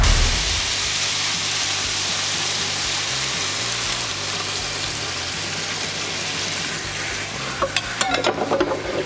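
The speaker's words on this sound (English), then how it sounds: "I'm just gonna basically pour that in there and get that kind of a little bit of a fry going on it" A beef mixture for sweet potato shepherd's pie fries loudly in a pan, a dense continuous crackling sizzle close up, with a low hum underneath and a few clattering stirs near the end.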